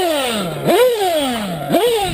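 A 125cc two-stroke dirt bike engine revs hard twice, each blip climbing sharply then sagging back down in pitch, loud and close with no talking.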